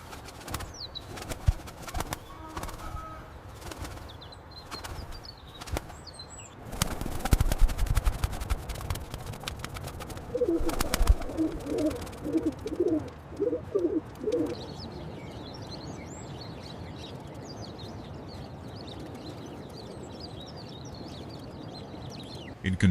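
A pigeon coos in a soft, low burst midway through, with scattered rustling and clattering that may be wing flaps and faint chirps in the background.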